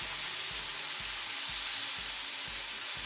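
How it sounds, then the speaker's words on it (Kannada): Squid and masala frying in a pan over a low flame, a steady hissing sizzle with a regular rhythmic scraping of a spoon stirring roughly twice a second. "ಸ್ವಲ್ಪ 2 ಮಿನಿಟ್ಸ್ ಹೀಗೆ ಮಸಾಲ ಫ್ರೈ ಮಾಡಿ."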